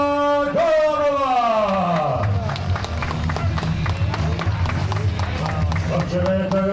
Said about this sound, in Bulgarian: Моля вашите аплодисменти за Илияна Гълъбова!